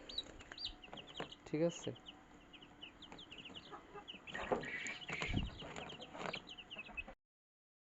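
Many tiger chicken chicks chirp in a busy, overlapping chorus of high peeps while they are moved into a new house, with louder bursts midway and a person speaking briefly.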